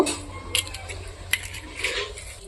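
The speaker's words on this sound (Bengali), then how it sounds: "ডিমটা ফাটিয়ে এভাবে নিয়েছি এখন আমি ভালো করে মিক্স করে নিব" Cracked eggs being mixed with onion and green chilli in a bowl, a handful of close clinks and scrapes of a utensil against the dish over a quiet room, no talking.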